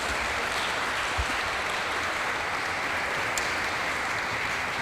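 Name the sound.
congregation applause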